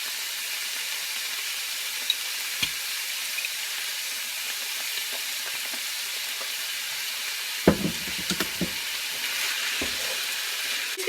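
Ground beef with soy sauce fries quietly in a pan for an unstuffed egg roll, giving a soft steady sizzle broken by a few scraping, clicking stirs partway through.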